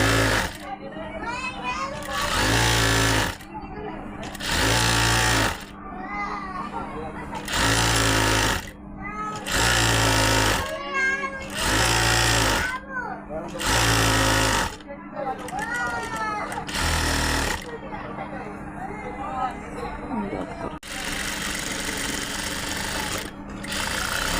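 A sewing machine stitches elastic onto a pajama waistband in loud, close bursts of rapid whirring that start and stop repeatedly, with a person talking softly in the pauses.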